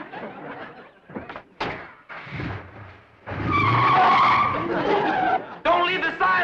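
A car pulls away hard with a long, loud tire skid and engine roar in the middle of the clip, after a few thumps and a brief voice, then another sharp screech near the end.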